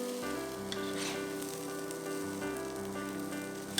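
Glutinous rice frying in a pan with five-spice and pepper for a roasted duck rice dumpling filling, a steady close sizzle with soft scraping from gentle stirring, no voices.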